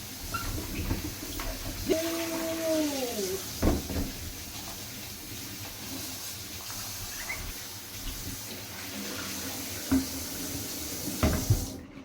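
Cocoyams and yams being washed by hand under a running tap in a kitchen sink: a steady close stream of water with splashing, knocks and a few clunks against the basin, and no voices.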